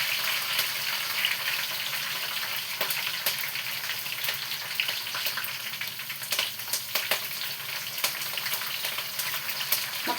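Curry leaves hitting hot oil in a pan, a dense continuous sizzle and spitting crackle that stays loud and even throughout, with no voices.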